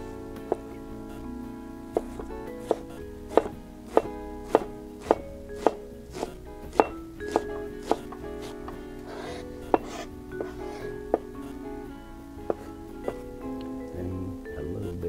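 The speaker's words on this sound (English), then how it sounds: "Here we cut our onions." Knife chopping onions on a cutting board, with sharp, fairly regular taps spread across the stretch over a low, steady kitchen hum.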